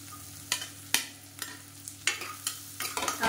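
Crushed garlic frying in a pan while being stirred, with a spoon scraping at uneven intervals about every half second over a steady low sizzle, close and fairly clear, with no voices.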